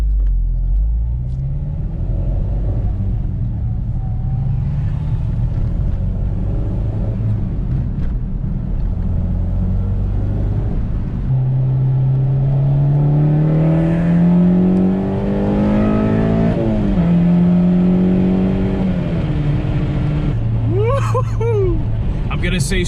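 A Honda K24 engine revs hard and close, its note climbing in several sustained pulls as it sweeps through VTEC crossover, loud and continuous throughout.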